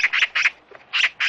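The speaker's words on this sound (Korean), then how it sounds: "길가 느티나무에서 요란스런 까치 울음소리가 들려왔어요." Harsh, raspy magpie chatter comes in loud, close bursts from a roadside zelkova tree, broken by short pauses.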